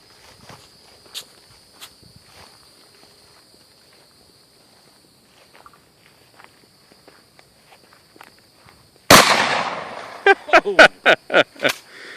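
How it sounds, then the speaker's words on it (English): A 12 gauge shotgun loaded with buckshot fires at an outdoor shooting range: one loud, close blast breaks a quiet stretch of faint scattered sounds, followed by several more sharp bursts in quick succession. "You got a 57-year-old woman shooting a 12 gauge."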